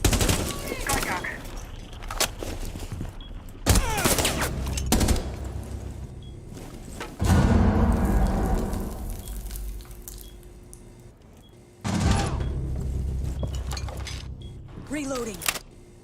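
Bursts of gunfire in a Rainbow Six Siege esports match, with sharp volleys and sustained automatic fire recurring over the clip amid game sound effects, with people talking over it.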